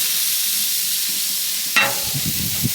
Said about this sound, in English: Just checking on them, giving them a turn.